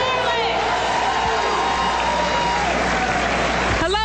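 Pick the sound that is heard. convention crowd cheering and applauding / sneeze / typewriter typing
convention crowd cheering and applauding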